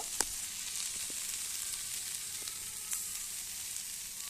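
Assamese banana flower curry cooking over low heat in a pan, a soft, steady sizzle with a few light clicks of a stirring spoon, fairly quiet and even throughout.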